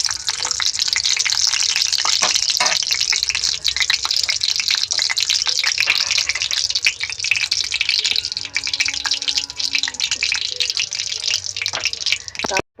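Whole spices, cinnamon, cardamom, clove and a torn bay leaf, fry in hot ghee and mustard oil, giving a steady, dense crackling sizzle that holds close and loud the whole time.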